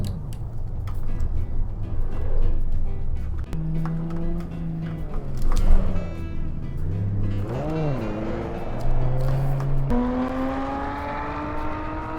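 Maserati Levante SUV engine in the Assetto Corsa racing game, revving and climbing through gears with rising and falling pitch sweeps, loud and steady throughout, with shifts around the middle and a sustained high drone near the end.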